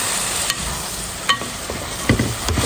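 Chicken frying in a pan, with a soft steady sizzle broken by a few sharp scrapes and clicks of stirring, close and fairly quiet, no voices.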